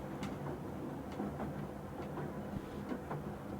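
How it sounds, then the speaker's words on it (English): Recorded train sound played back, a faint steady rumble with occasional soft clicks and rattles of rail cars, distant and low in level. "You should now be able to hear the train."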